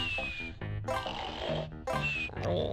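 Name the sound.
Banjo snoring loudly in the video game Banjo-Tooie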